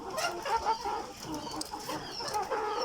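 Fayoumi chickens cluck in short, irregular bursts at moderate distance, several birds overlapping against a soft outdoor background.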